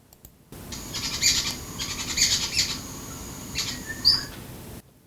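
A racket-tailed drongo mimics jungle babbler calls in Indian woodland, giving a series of harsh, chattering phrases in several bursts over a steady rustling background, fairly close and clear.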